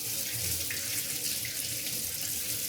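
Mint leaves rinsed under a running kitchen tap, a steady close hiss of water splashing into a sink that continues without pause.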